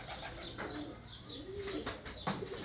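A young Jienense cross pigeon coos softly and repeatedly. The calls are fairly close, with light chirps and a brief rustle of movement in a quiet loft.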